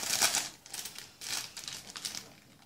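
Hands open a crinkly packaged Belgian waffle snack, giving soft crackling rustles in a few separate bursts, heard close up and quietly with no one talking.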